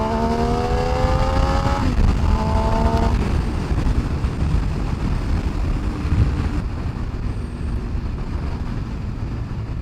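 A Benelli Tornado 900 motorcycle engine roars loud and close, revving with rising harmonic sweeps early on, then settling into a steady, rough, throaty drone with no talking.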